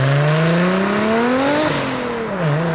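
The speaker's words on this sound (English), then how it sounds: "with the turbo, you get all the sweet six-cylinder boosted noises" Turbocharged six-cylinder Lexus IS200 engine revving loudly and close, its pitch climbing steadily, then dropping and rising again, with no talking over it.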